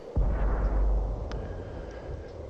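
A single heavy boom from an FV304 artillery tank firing in World of Tanks, a deep loud blast followed by a rumbling decay and faint distant pops, with no talk.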